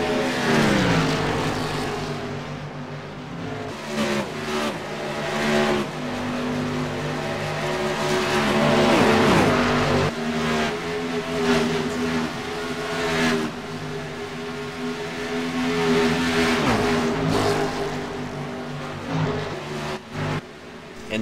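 CMC Sportsman Series race cars race around the Chicagoland oval, engines roaring loudly and continuously as cars pass in a dense pack, with rising and falling revs throughout and no talk over it.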